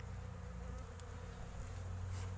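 Honeybees buzz around an open beehive during a colony inspection after feeding, returning from heather; a steady, close, continuous hum of many insects with no talking.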